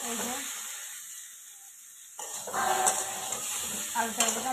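Vegetables stir-frying in a pan: a quiet stretch gives way to sizzling and scraping stirs that swell in the second half, close and moderately loud.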